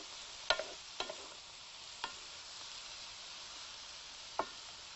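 Vegetables stir-fry uncovered in a wok, a soft, quiet sizzle broken by a few sharp clacks and scrapes of a utensil against the pan, spaced irregularly with no speech.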